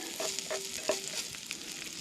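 Steady sizzling of food frying in a cast iron pan while camping, with a few soft scrapes and clinks of stirring, close and continuous.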